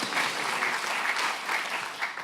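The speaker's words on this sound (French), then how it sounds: "Oui, on peut l'applaudir." An audience at a COP21 energy round-table conference claps for a speaker, an even, steady wash of applause from start to finish.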